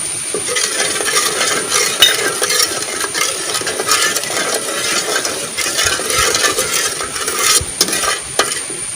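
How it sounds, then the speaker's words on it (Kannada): Homemade tomato sauce with lemon juice bubbles in a pan, a steady close sizzle broken by frequent scraping stirs, with no voices. "ಇದು ಚೆನ್ನಾಗಿ ಕುದಿಬೇಕು ನೋಡಿ ಇದು ಕುದಿಯೋದು"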